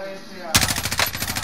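Gunfire from Call of Duty Warzone breaks out abruptly as a rapid burst of loud automatic shots in a steady stuttering rhythm, close and dominant after a moment of quieter game sound.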